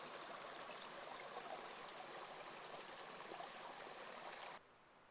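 A small trail-side stream on a Tehipite Valley backpacking route flows with steady broadband rushing and trickling, close and continuous, before the sound drops off abruptly near the end.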